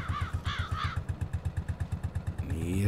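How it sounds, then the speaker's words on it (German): Crows caw in Farming Simulator 22: a few sharp calls ring out early, over a tractor engine thudding in an even, rapid beat close by, and the engine swells toward the end. "im Spiel fliegen die Krähen um mich rum"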